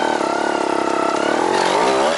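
Trials motorcycle engine revving steadily on held throttle, a loud, close, buzzing drone that rises in pitch toward the end, with no talking.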